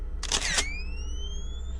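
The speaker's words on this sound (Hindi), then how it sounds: "रवि ने तुरंत कैमरा उठाया और फोटो ली" A camera shutter fires with a quick cluster of clicks, followed by the rising, fading whine of a flash recharging. It sounds close and clear, alone against a low background hum.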